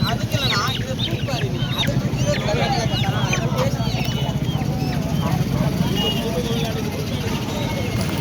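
Many chickens cluck and squawk at once over a busy crowd hubbub at a poultry market in Poigai, Vellore. The noise is loud and constant.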